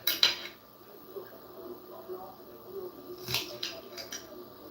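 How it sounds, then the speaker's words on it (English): An onion being cut with a knife during dinner prep in a home kitchen, with a few sharp clicks of the blade on the board spaced apart over a low background hum, close and fairly quiet. "my eyes be on fire trying to cut this onion"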